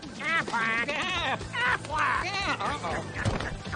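The Aflac duck from a TV commercial quacks in a quick series of loud, nasal calls, with a voice speaking between the quacks.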